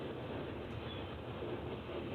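A BNSF freight train rolls past at night in a steady, continuous rumble, a moderately loud wash of rail noise with no voices over it.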